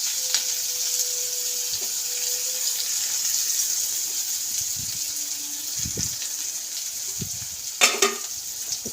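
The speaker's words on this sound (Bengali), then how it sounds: "পেঁয়াজটাকে একটু ভেজে নিতে হবে। একটু হালকা বাদামি কালার এটাকে ভাজবো।" Onions frying in oil in a pan, alongside a whole dried red chilli, make a steady soft sizzle throughout. Scattered clinks and scrapes from stirring break through it, and a brief louder clatter comes near the end.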